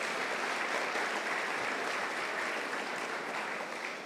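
A church congregation claps at a Sunday evening Mass, a dense, even wash of applause that holds steady from start to finish and fades slightly near the end.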